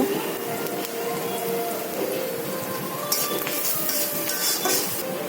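Bay leaves and whole cumin seeds fry in oil over a low gas flame, giving a dense, steady, rain-like crackle up close with occasional sharper pops and a faint clink of cookware. No speech.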